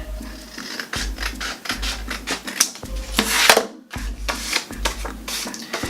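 Scissors cutting down the middle of a folded sheet of paper, a series of close, crisp rasping snips with brief pauses between strokes.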